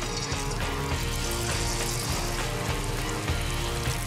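Banana fritters in a sesame-seed coating frying in hot oil, a steady, dense bubbling sizzle that holds loud and continuous throughout with no talk over it.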